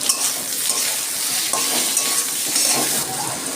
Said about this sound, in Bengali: আমি কটা আলু ভেজে তুলে নিচ্ছি